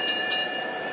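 A boxing ring bell at an IBF world lightweight eliminator bout gives two quick metallic strikes whose tone rings on and sustains under a steady arena hum.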